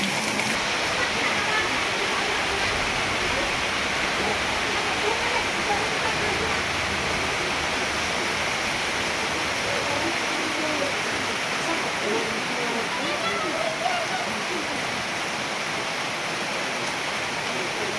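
Heavy rain pours steadily on a roof and surroundings, a dense, continuous hiss that stays loud and even throughout, with no talking.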